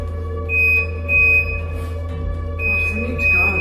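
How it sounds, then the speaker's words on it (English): Repeated electronic beeping from a fridge door alarm, a steady high tone sounding in several spaced bursts over a low hum, with faint background noise. "That's what the beeping is. It's the fridge."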